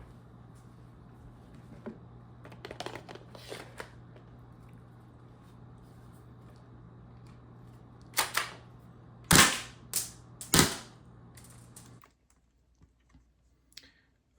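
Halo-style M7S airsoft gas gun firing a few short, sharp pops in a quick cluster, preceded by faint clicks and tapping over a steady low hum.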